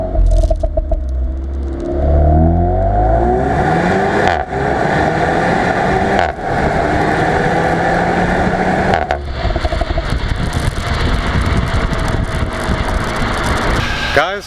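Renault Megane 280 RS engine and exhaust revving at a petrol station, loud and close, the pitch sweeping up and down through several throttle blips, with voices in the background.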